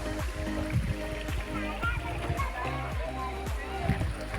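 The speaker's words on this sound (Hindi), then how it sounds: "फिलहाल ये इस तरह से चट्टानों के बीच में पानी बहता हुआ जाता है" Water flowing between rocks in a stream at Mandu in Madhya Pradesh runs as a steady rushing burble beneath continuous talking.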